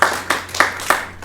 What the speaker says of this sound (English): So we can give a massive round of applause for the blue team.